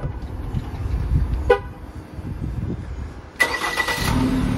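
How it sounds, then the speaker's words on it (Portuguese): A Jeep Compass Limited started by remote: a short horn toot, then a quiet pause before the engine cranks and catches into a steady idle hum. "Nós podemos também dar partida à distância."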